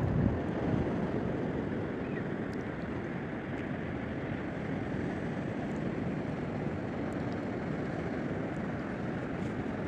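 Steady roar of ocean waves and surf washing up an eroded beach at Ormond Beach, Florida, after hurricanes Ian and Nicole, with wind buffeting the microphone throughout and no distinct breaks between waves.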